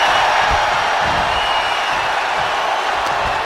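A wrestling arena crowd at a RAW event roars in a continuous broad wash of cheering, steady and loud throughout, with faint low thuds from the ring underneath.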